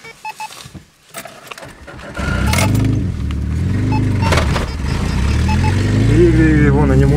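Car driving, a close steady engine drone and road rumble that swells after a quiet start, with people talking in the cabin over it.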